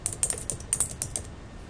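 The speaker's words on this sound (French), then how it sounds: "tabulation en appuyant sur la touche de mon clavier" Keys on a computer keyboard pressed in a quick series of crisp, close clicks, the tab key among them, clattering in uneven bursts over a quiet room and then falling silent.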